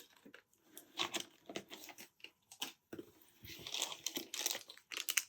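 A packet of Purell wipes crinkles as it is handled: soft, irregular rustling and crackling bursts nearby, quiet, with no talk.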